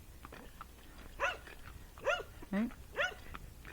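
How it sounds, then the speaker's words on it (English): Several dogs bark in short bursts as they charge at a Missouri Fox Trotter horse on a farm. Four sharp barks come at irregular intervals, fairly close, with someone briefly speaking. "Here comes the dogs."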